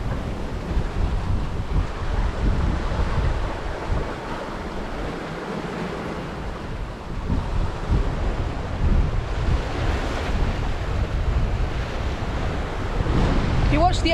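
Strong wind of about 24 to 25 knots buffets the microphone aboard a sailing boat. Waves rush and surge along the hull in a continuous, loud wash that swells and eases.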